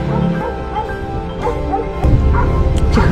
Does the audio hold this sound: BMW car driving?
no